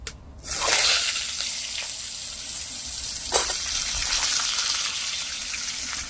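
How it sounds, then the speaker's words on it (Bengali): Cut potatoes drop into hot oil seasoned with radhuni spice for a Bengali shukto, bursting into a loud, steady broadband sizzle after a brief quiet start, with a short clatter partway through as frying continues close by. "এবার দিয়ে দেবো কেটে রাখা আলু"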